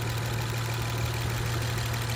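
A 2010 Acura TL J37 V6 fitted in an 8th-generation Honda Accord, automatic with an eBay intake, idles with a steady, even drone and a constant low hum, close by with no other sounds.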